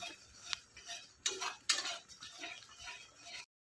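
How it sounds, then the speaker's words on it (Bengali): Spice paste is stirred and sautéed in a cooking pan, with a metal utensil clinking and scraping against it. A few sharp taps stand out over a soft sizzle before the sound cuts off abruptly. "মশলা বাটা জলটা দিয়ে দিলাম। ভালো করে নেড়ে চেড়ে"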